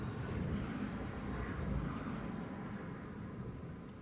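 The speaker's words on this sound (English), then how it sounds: "here goes the A330. I imagine this is going to be quite a quick takeoff" An Airbus A330 starting its takeoff at Newcastle Airport gives off a distant, steady low engine roar that swells slightly and then holds as a broad rumble, with no talking.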